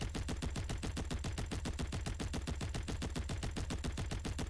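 A machine gun in a video game fires in one continuous rapid burst, with evenly spaced sharp shots rattling at a fast, steady rate and loud throughout.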